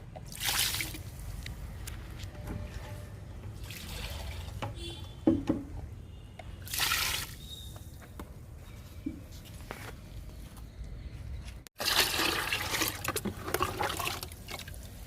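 Liquid fertilizer, tinted green by mixed-in green grass, is poured onto a Banganapalli mango seedling grown from seed, giving several splashy pours and trickles with drips and a few footsteps between them, and no one talking.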